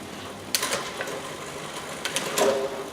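A rear bicycle derailleur shifts gears with a few sharp mechanical clicks and brief rattles, sticking slightly on the upshift, close and fairly quiet.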